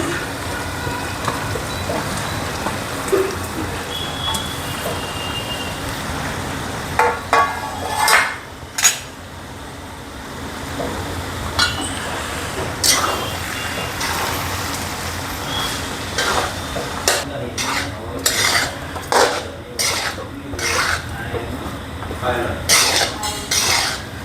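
Cooked rice tipped into a pan of spinach masala for veg pulao and stirred, with repeated clatter and scraping of a spoon against the pan over a steady kitchen background.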